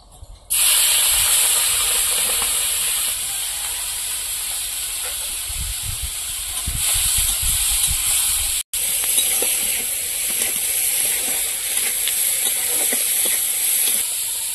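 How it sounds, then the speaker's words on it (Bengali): Prawns frying in hot oil give a loud, steady hiss and crackle that lasts the whole time, broken once by a very short gap. No one speaks over it. "এবার চিংড়ি মাছগুলো ভেজে নেবো।"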